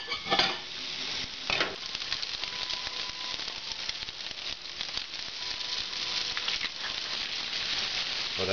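Peppers sizzle steadily in hot oil in a pan while a spoon stirs and scrapes through them for chili, a continuous close frying hiss with intermittent utensil rattles and no talking.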